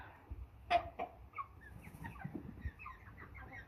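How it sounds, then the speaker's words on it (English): An American Bresse rooster clucks a few short calls near the gate, close and fairly clear over quiet farmyard background, with no one talking. "Peanut Gallery had a little comment. Don't know what he said because it was chicken speak."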